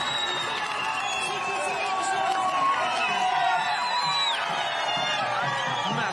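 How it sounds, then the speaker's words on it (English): Roadside crowds packed ten deep along the barriers at a UCI cycling race in Kigali cheer and shout in a continuous roar, with a voice talking over it. "Massive crowds"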